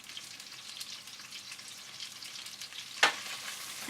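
Sliced onions sizzle steadily in olive oil in a cast iron pot alongside paprika sausage, a continuous frying hiss with one sharp scrape or clatter near the end.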